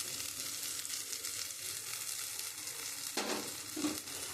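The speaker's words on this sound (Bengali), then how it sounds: "আমি এইটা কড়াইতে খুব ভালো করে নাড়বো যতক্ষণ একটা আটলো ভাব না আসছে।" Jackfruit seed paste with salt and turmeric frying in a wok while being stirred, a steady soft sizzle throughout, with a couple of brief scraping stir strokes near the end.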